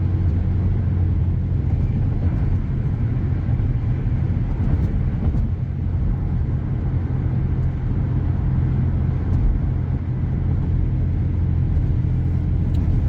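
Car driving on a road during a driving lesson: steady, loud low engine and tyre rumble from inside the cabin, continuous throughout with no clear changes.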